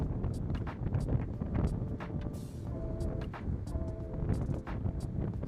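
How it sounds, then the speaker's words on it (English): Strong wind buffets a drone flying over the ocean in heavy updraft, a steady loud rushing roar with gusty surges and a faint whine of propellers throughout. "It's so much updraft and wind."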